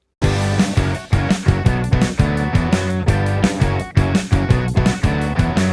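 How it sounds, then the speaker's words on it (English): A loud, dense rock riff from a song: distorted guitars and bass chug together over a driving drum beat, repeating the same pattern throughout. "So altogether, the riff section sounds like this."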